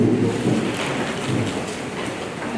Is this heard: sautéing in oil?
no